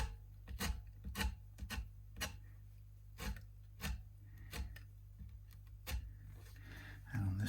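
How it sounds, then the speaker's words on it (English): Quiet, short scraping strokes of sanding the metal fret ends on a Stratocaster-style guitar neck, repeated at an uneven rhythm over a low steady hum. "do a little bit of sanding down here just to round off the fret."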